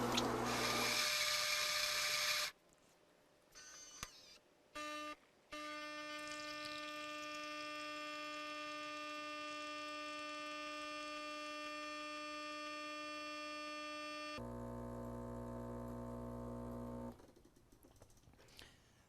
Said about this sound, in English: at any point during the brewing cycle, we can actually press that start and stop button again to simply stop dispensing